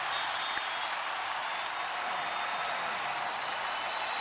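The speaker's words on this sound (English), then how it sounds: "finally this crowd here at Carver Hawkeye getting into the game" A college basketball crowd at Carver Hawkeye Arena during Iowa vs Purdue cheers and claps in a steady loud roar that fills the whole moment, with no distinct voices standing out.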